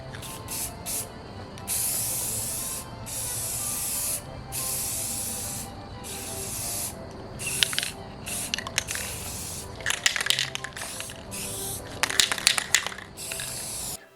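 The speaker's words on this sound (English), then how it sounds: "Took this outside and hit it with 2 coats of spray-on polyurethane" Spray-on polyurethane finish hisses from an aerosol can outdoors onto a wooden mancala board in repeated bursts, close up, some short and some long, with brief pauses between and no voices.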